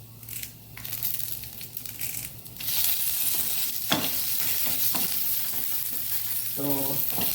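Urad dal and curry leaves crackle in hot tempering oil for a cabbage onion dish, the sizzle swelling louder and then holding a steady, dense hiss with occasional pops.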